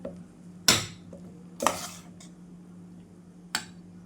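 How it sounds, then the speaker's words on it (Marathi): Three sharp metallic scrapes and clinks ring out, unevenly spaced, as a spoon stirs tamarind rice against the pan, with quiet pauses between them. "आपण आता मिक्स करून घेऊ बघा अशा पद्धतीने छान मिक्स करायचं"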